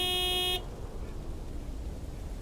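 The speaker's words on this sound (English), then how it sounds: "Big, white, wobbly, and with a honking great horn." A big white delivery truck in the game Lake gives one loud, sustained horn blast lasting about half a second, then cuts to steady engine and road rumble.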